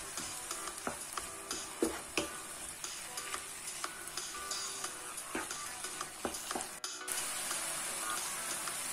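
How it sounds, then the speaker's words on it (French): Fresh ground tomato and parsley filling for spinach and minced meat bricks simmers in a pan, a steady close sizzle and bubble with scattered clicks and stirring taps, no voices. "Et je continue donc à laisser mijoter."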